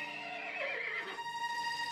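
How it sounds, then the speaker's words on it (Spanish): Horse neigh sound effect from a Playmobil winged horse toy, a single short whinny sliding down in pitch then holding a steady tone, clear and close with no talk. "¿Un caballo con alas rosas?"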